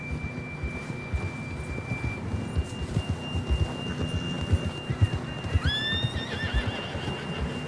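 In Red Dead Redemption 2, a horse's hooves clop steadily while it trots, then it lets out a clear, high whinny partway through, over a faint constant tone.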